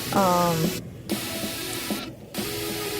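A hair dryer blows steadily over a dog's coat during deshedding, a close constant airy hiss that runs throughout, with a voice speaking over it in places.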